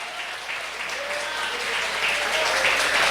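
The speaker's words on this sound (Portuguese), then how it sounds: "Então aplauda ele. Aplauda. Aplauda porque ele é fiel." A church congregation claps during a service, a continuous, moderately distant patter of many hands that swells slightly toward the end.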